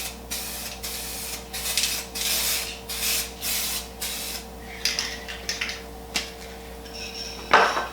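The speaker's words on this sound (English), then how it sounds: "Alright, now we're going to spray the activator." Repeated short hissing sprays of hydro-dipping activator from a spray can, about eight bursts in a steady rhythm, close to the mic, followed by a few sharper clicks and a louder hiss at the end.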